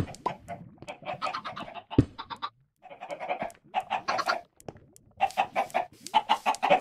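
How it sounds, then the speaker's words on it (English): Chickens cluck in Minecraft, with bursts of short, clipped clucks and pauses between them, fairly close, and a sharp knock near the start. "I don't know how many chickens I have"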